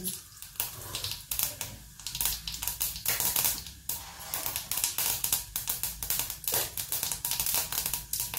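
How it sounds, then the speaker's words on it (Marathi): Mustard seeds and cumin spluttering in hot oil in a pan, with dense rapid crackling pops in quick irregular bursts, close and fairly loud, and no talk. "तेल तापलेलं आहे, मोहरी घालते, जिरं घातलेलं आहे"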